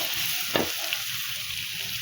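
Onions sautéing in oil for a cauliflower gravy give a steady, fairly quiet sizzle, with one brief sharper crackle or utensil scrape partway through and no talk.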